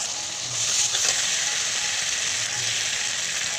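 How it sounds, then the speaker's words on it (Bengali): Tomatoes sautéing in a pan with spices for a chicken kosha, giving a steady, moderately loud sizzle and frying hiss with faint stirring scrapes. "টমেটোটা দিয়ে বেশ কিছু নাড়িটা দিয়ে কষিয়ে নেব টমেটোটা দেখুন কত সুন্দর গলে যাচ্ছে"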